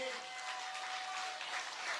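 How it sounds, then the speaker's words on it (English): Sustained crowd applause at a PEP public meeting for the Debe South by-election, a steady dense wash of clapping throughout, fairly loud and close, with no speech over it. "I want a heartfelt round of applause for Lorenzo Rodney Sammy"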